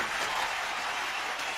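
Dense, roaring applause from a large audience at a Kapil Sharma comedy show, loud and sustained without a break.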